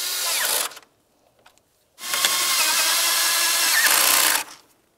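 A power tool drives 8mm mounting bolts on the AC condenser of a 2009-2019 Ford Flex, whirring loudly up close in two bursts, a short one and then a longer sustained run, with silence between.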